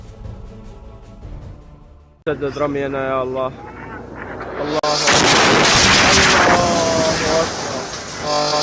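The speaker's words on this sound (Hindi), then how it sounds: "हमला करने के लिए तैयार ISIS की इस तोप के चंद सेकंड में चीथड़े उड़ गए" Explosion destroying an ISIS artillery cannon in a war zone: a loud, sustained blast and roar of debris and fire lasting several seconds after a sharp onset, following a burst of noisy activity with a voice heard under it.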